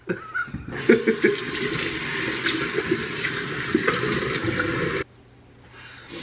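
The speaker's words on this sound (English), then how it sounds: "You know how to wash a face." Water runs steadily from a tap into a bathroom sink during face washing, a loud continuous splashing rush that cuts off abruptly near the end, with no talk.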